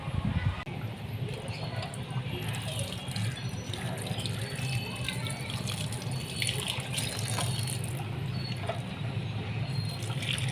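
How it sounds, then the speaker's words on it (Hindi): Water running and trickling from a leaking kitchen tap, a continuous, fairly close hiss of flowing water with faint pattering throughout, no talk over it. "पानी थोड़ा सा यहाँ से लीक होता है नल के पास से"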